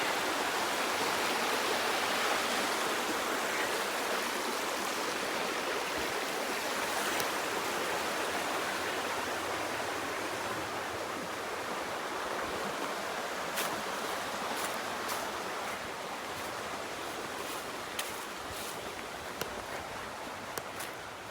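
Stream water flows steadily along the Appalachian Trail, a continuous close rushing and gurgling that stays even throughout, with a few faint ticks near the end.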